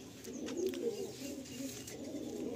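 Pigeons in a loft with a netted flight house give soft, low cooing, a faint continuous murmur over quiet room background.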